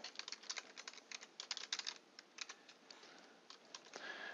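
Quick, uneven tapping of keys on a computer keyboard, close and fairly quiet, with no talking.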